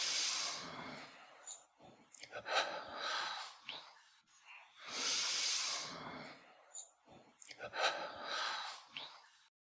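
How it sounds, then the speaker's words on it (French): Double breathing during a Kriyayoga exercise with both arms raised up and down: repeated loud, rushing inhales and exhales in paired bursts, close and breathy, recurring in cycles. "Raising both arms up and down with double breathing."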